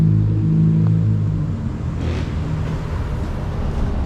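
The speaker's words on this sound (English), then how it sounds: "I'm gonna let these cars drive by. They're pretty loud." Loud traffic rumble as cars pass close by on a Brazilian street, a low engine roar swelling then settling into steady road noise with no talking.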